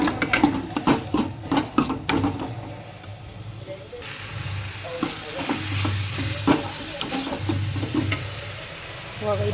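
Tomato gojju mixture stirred in a hot pan, a continuous sizzle with repeated scraping strokes of the spoon, close and fairly loud, with a voice talking over part of it.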